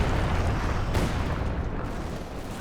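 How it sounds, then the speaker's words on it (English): Incendiary rockets explode in a Company of Heroes 2 2v2 match, producing a loud, continuous roar of overlapping blasts that swells briefly and rumbles on without a break. "Incendiary rockets down."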